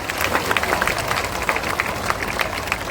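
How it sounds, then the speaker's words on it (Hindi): Dense applause from a crowd at a political rally in Bihar: steady clapping across the whole stretch with sharp individual claps standing out, fairly loud and close, with no clear speech. "लेकिन ताली बजा दीजिए"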